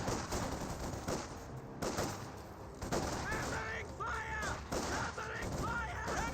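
Infantry trading gunfire from light cover in Company of Heroes 2, repeated rifle and machine-gun bursts crackling at a moderate distance in a continuous battle din, with no talking.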